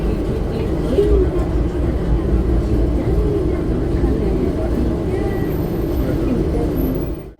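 Hazarduari Express running between Kolkata and Lalgola, heard from inside as a loud, continuous low rumble and roar of the moving train with faint rattling, fading slightly at the very end.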